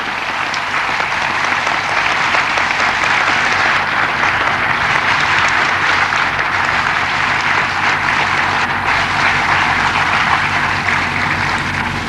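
A large audience at a 1996 Guru Purnima gathering in Chandigarh applauds visiting sannyasis, loud and sustained without letup, no talking heard.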